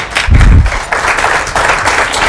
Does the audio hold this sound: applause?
yes